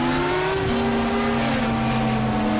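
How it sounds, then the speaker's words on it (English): Racing car engines in a video game drone steadily with shifting pitch, several motors overlapping as they hold and rise in revs, no talking. "you can hear the engines of the cars behind us"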